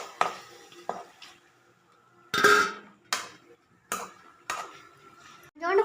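Spoon scraping and stirring pasta with chicken masala and chilli masala in a home kitchen pan, in a few loud separate bursts with quiet gaps between them.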